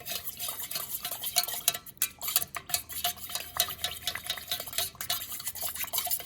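Fragrance oil being stirred into melted soy candle wax, a utensil scraping and clinking steadily against the container in quick, repeated strokes, close and clear with no talking.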